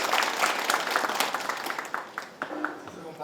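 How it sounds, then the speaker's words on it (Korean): Audience applause at a Gyeongbuk provincial forum on revitalizing the air logistics industry for the integrated new airport: steady clapping from a seated crowd that thins and tapers toward the end. "여러분 박수 한번 부탁드리겠습니다"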